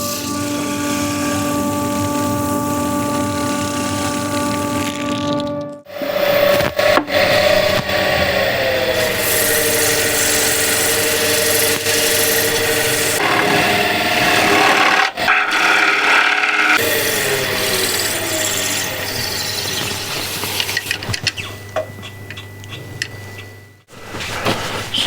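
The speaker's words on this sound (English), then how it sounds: "So this detail I don't have to sand too much." Sanding a wooden woodturning piece on the lathe, a continuous abrasive rubbing hiss over a steady motor hum that shifts in pitch and texture, pausing briefly a few times.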